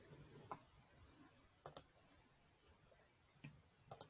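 Faint, sparse mouse clicks on a computer running Excel, a few single and paired sharp ticks spaced over a quiet background.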